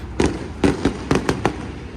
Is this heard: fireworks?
yes